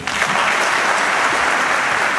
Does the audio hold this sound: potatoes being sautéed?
no